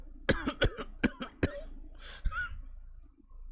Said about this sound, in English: I collapse to my knees and cough.